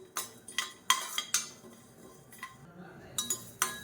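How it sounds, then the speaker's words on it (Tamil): Metal spoon scraping and clinking against a pan, irregular light taps and rattles of dry rice grains being roasted and stirred for sambar, fairly close and without talk. "இப்போ இந்த அரிசி வந்து நல்லா பொரியணும்."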